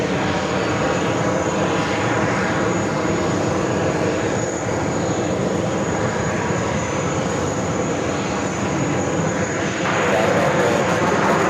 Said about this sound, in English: Air France, flight 6 coming up from Paris on a 777